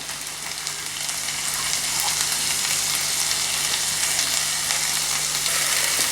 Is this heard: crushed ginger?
yes